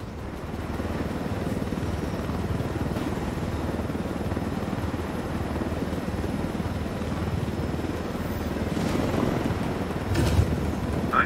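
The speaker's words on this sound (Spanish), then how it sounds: "Derribemos esos helicópteros." Helicopters in Ghost Recon Wildlands produce a steady, loud rotor drone with wind-like roar that holds unbroken throughout, with no talking.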